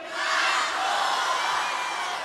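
A large concert crowd in Poland chants and roars the band's name, a dense, loud, sustained wall of massed voices that swells early and stays steady to the end, with no single voice standing out.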